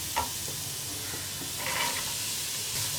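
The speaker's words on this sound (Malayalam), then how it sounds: "ഓരോ വെജിറ്റബിൾസും നമ്മൾ ആഡ് ചെയ്തിട്ട് ഒന്ന് ചൂടായി വരുന്നത് വരെ ഒന്ന് ഇളക്കി കൊടുക്കുക." Vegetables with beans being stir-fried in a pan for veg fried rice, a steady sizzle and hiss broken by scraping stirs of the spatula, close and alone without talk.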